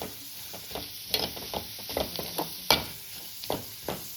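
Onions frying in oil with curry leaves in a pan for a Mangalorean chicken curry, a soft steady sizzle broken by scattered stirring clinks and scrapes, close and fairly quiet.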